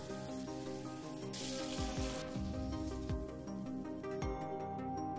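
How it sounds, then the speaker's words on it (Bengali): Cauliflower frying in oil in a kadai over a low-to-medium flame. A soft, continuous sizzle runs throughout, with a few faint clicks and pops, close by and unaccompanied by speech. "কপিগুলো কিন্তু লো টু মিডিয়াম ফ্লেমে ভাজতে হবে"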